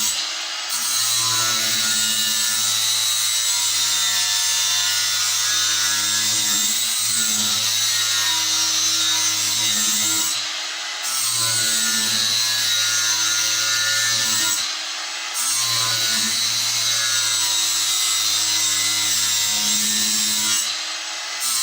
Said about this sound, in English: So, yeah, we'll go sharpen this now.